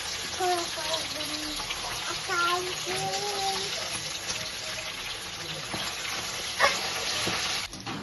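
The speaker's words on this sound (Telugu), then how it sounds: "ఆయిల్లో చికెన్ ముక్కలు ఫ్రై చేసుకొని ఎర్ర కొద్దిగా వేయించుకొని తీసుకోవాలండి" Chicken pieces frying in oil, a steady close sizzle running the whole time, with a voice speaking over it early on and a sharp clink near the end.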